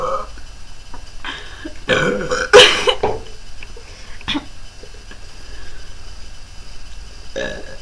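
A person burps during a burping contest, with one loud, drawn-out belch near the middle, a few smaller burps and throat noises before and after, and brief bits of speech.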